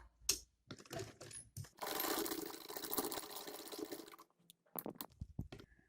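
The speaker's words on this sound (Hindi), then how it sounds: "यहां से हम डबल सिलाई करेंगे और फिर ये हमारा नेफा जो है वो तैयार हो जाएगा" A sewing machine double-stitches the waistband casing of an embroidered trouser: scattered small clicks, then a dense, steady mechanical run of about two and a half seconds, followed by more quick ticks and taps.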